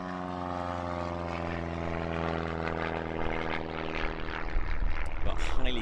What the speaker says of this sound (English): And here he is, little diminutive plane,